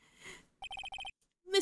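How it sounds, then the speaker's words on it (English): Phone ringtone in the Ace Attorney courtroom game Justice for All, a quick electronic jingle of eight rapid chirping pulses in two groups, with short vocal sounds before and after. "What's with a stupid sounding ringtone?"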